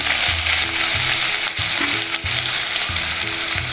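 Chopped onion hits hot oil already holding fried garlic, cumin and mustard seeds, giving a loud, steady sizzle with stirring clatter throughout.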